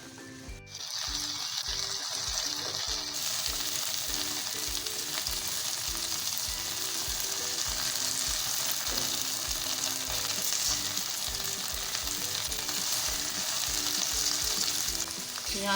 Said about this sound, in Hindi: अब हम भिंडियों को अच्छे से फ्राई करेंगे हाई फ्लेम पे।